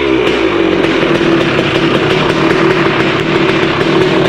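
Honda TRX250R ATV with a Rekluse clutch fitted runs at a steady loud idle nearby, its two-stroke engine buzzing evenly with a sustained drone and fine rapid ticking throughout.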